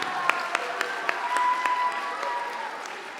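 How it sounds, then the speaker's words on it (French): Scattered hand claps from an audience at a high school talent gala, a handful of distinct claps spread over a few seconds, with a faint steady tone running underneath. "Plein d'applaudissements."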